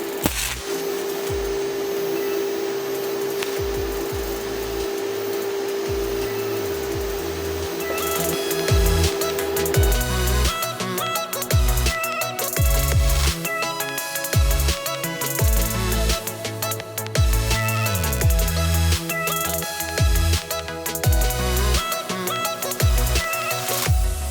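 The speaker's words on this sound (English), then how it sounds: "Tack this, and then we'll weld it up." Welding and tacking a steel torsion beam control arm on a Chevy Cruze AWD conversion: a steady hiss for the first few seconds, then loud, irregular crackling and buzzing bursts that continue close up with no talking.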